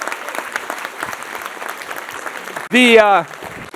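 Audience applause fills a university State of the University address, a steady dense patter of many hands that swells louder toward the end, where one voice lets out a brief rising whoop over the clapping.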